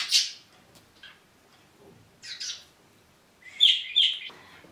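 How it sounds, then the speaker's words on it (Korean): A pet parrot gives short, bright chirps in separate bursts with quiet gaps between them, close by, the last burst a quick double chirp. "앵무새가."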